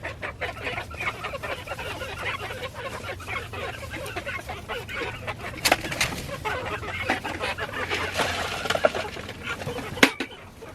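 Barred Rock hens cluck and murmur steadily nearby in a backyard flock, with soft, overlapping calls and a few sharper squawks over light rustling.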